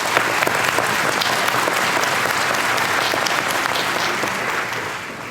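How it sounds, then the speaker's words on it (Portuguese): A church congregation applauds during a Catholic sermon: a thick, continuous roar of clapping hands that holds steady and eases off slightly toward the end, with no voices over it. "vamos aplaudir a palavra do Senhor"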